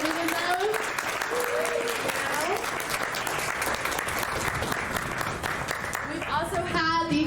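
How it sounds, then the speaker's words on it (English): A crowd claps continuously in a steady, even patter of applause at moderate volume, with scattered voices and a brief cheer near the end. "Can I get a big round of applause for everyone who's participating in those?"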